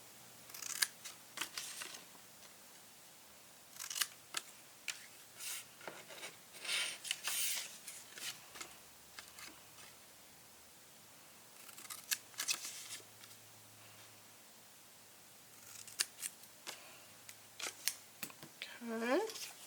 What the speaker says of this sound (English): These last 2 pieces have little tabs on them. I'm just going to cut those like they suggest.